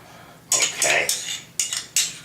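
A knife scraping and clinking against bread slices while spreading mayonnaise, several short sharp metallic scrapes in quick bursts, close up with no talking.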